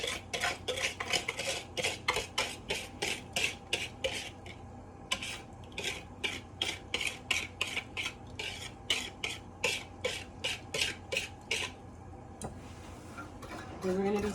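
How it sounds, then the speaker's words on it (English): A spoon stirring coconut cream mixture in a saucepan, rapid rhythmic scraping clinks against the metal pan repeated steadily and close, slowing near the end. "We're going to be stirring this constantly until it gets warm."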